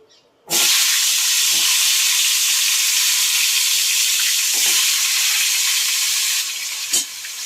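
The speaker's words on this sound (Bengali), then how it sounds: "আমি এবারে পটলটা ভেজে নেব।" Slit pointed gourd (potol) pieces hit hot oil with a sudden loud sizzle, then fry in a steady, dense hiss that eases slightly near the end, with a few faint clinks.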